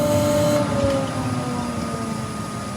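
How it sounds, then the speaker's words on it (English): A steady, loud mechanical roar with a droning whine runs throughout, a woodturning workshop dust extractor motor running continuously. "Alright Charlie, we're going to turn the extractor off just for a minute."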